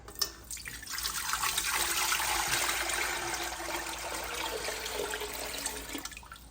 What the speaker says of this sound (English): we're going to add 1 full jug of water to it